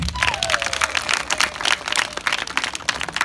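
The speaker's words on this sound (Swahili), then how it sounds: "Pigie Yesu wetu makofi." A congregation at an outdoor gospel meeting in King'ori, Arusha claps together in a dense, continuous burst of many hands, loud and close, with a brief high tone near the start.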